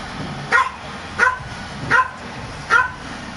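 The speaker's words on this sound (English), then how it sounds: "Puppies in the background." Puppies bark in the background at a televised NFL football game between the New York Giants and Carolina Panthers, four short evenly spaced yips about a second apart over a steady low crowd murmur.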